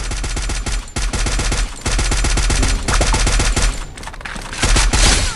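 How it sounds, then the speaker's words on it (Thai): Rapid AK rifle gunfire in the mobile battle game Free Fire: loud, sustained automatic bursts with short breaks between volleys, dense and close. "พบศัตรูแล้ว เพื่อนเรายิงใครวะ"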